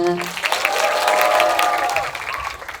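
A cinema audience at Lotte World Tower greets the cast of the film Broker on stage with loud applause and high, excited shrieks of cheering that swell and then taper off.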